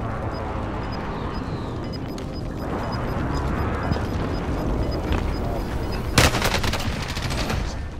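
Call of Duty Warzone battle with rapid gunfire rattling under a dense, noisy backdrop of combat, punctuated by a louder burst of close shots near the end.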